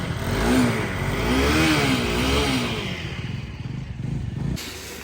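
A faulty motorcycle engine on a mountain trip toward Shimla, revving in loud wavering surges that then settle into a rough, uneven idle with brief clatter before cutting off.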